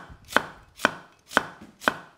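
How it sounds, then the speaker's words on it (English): A knife roughly chops fennel on a cutting board, four evenly spaced, crisp, close blows landing about half a second apart, with no talking. "And this is all going to be sort of quite roughly chopped up."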